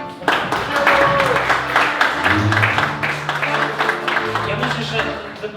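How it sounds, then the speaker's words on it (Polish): An audience at a patriotic evening gathering in Drohiczyn applauds, dense clapping running throughout while a voice speaks and a low hum rises in the background. "wielkie brawa dla Państwa wszystkich"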